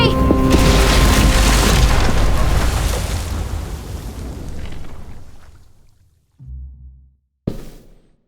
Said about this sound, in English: Shit, the bomb!